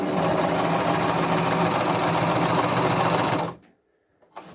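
A Jomita portable walking-foot industrial zigzag sewing machine runs a long stitch, a loud, even rapid thumping that carries for about three and a half seconds, then stops abruptly into near silence with a faint click.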